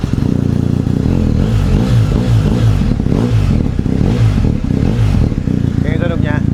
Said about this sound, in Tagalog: Sound check for this BMW 1250R. Slip on, hindi siya naka-full exhaust.